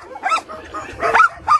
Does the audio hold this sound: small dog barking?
yes